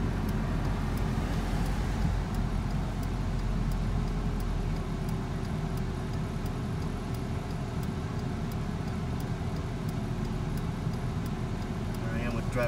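A Chevrolet S10 pickup with a five-speed manual transmission drives along a street, its engine and road noise forming a steady low drone inside the cab, with faint ticking on top.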